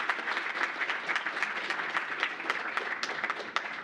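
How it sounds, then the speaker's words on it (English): Steady applause from a conference audience at PyCon DE & PyData Berlin 2024, a continuous patter of many hands clapping at moderate volume throughout. "give that a big applause"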